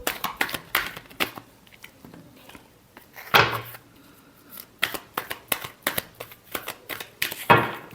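Tarot cards being shuffled by hand in quick riffling bursts, separated by short pauses and soft handling taps, close and fairly loud, with no talking.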